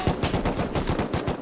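Rapid automatic gunfire from the survival game Rust rattles in a steady, loud burst of evenly spaced shots, close and alone with no talk over it.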